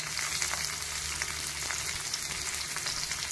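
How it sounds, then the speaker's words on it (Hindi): Garlic, green chili and onion frying in a pan, a steady dense sizzle that holds evenly throughout with no talking. "और इसको हम लोग फ्राई करेंगे"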